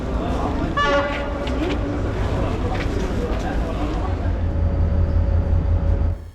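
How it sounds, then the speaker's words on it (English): A sleeper train pulls into a Cairo station platform, with a horn-like toot near the start and steady rumbling rail noise throughout, loud and close, with voices in the background. "Our train pulls in around 15 minutes before departure"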